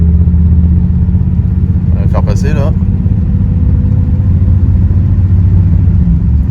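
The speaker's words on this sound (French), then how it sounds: "la voiture roule très bien, les vitesses passent bien" A roughly 70-year-old Ford with a Ford-O-Matic automatic transmission drives, its engine rumbling steadily at low pitch throughout, with someone speaking briefly over it partway through.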